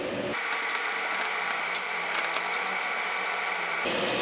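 A ratchet with a ball hex socket drives master cylinder bolts on a dual master cylinder booster delete install, giving a steady, fast clicking whir that runs close and loud for several seconds before stopping abruptly.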